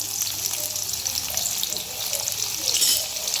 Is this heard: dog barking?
no